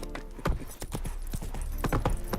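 Horse hooves clip-clopping at a gallop in the video game Witcher 3, a rapid, loud, irregular drumming of hoofbeats close by, with no speech.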